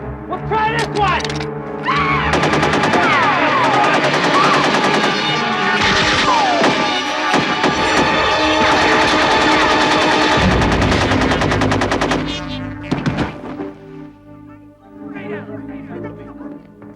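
Loud, sustained movie gunfire: rapid machine-gun bursts and shots blaze almost nonstop for about twelve seconds with dramatic score underneath, then trail off into sparse, quieter sounds. An action scene from the Jesse Ventura film Abraxas, Guardian of the Universe.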